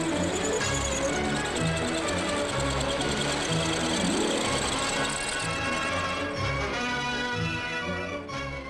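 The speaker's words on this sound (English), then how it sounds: "the large circular cutters return to machine the end face" Large circular cutters on an industrial machine mill the end faces of engine blocks, a loud, continuous, pulsing mechanical clatter and grind heard up close.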